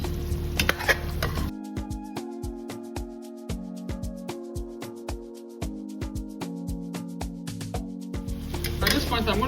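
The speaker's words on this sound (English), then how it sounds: "So you just add your snail. And you give it a good turn." Snails are turned in a pot of frying pepper sauce, with a spoon repeatedly clinking and scraping against the pot over a steady sustained tone, probably background music, with soft sizzling underneath.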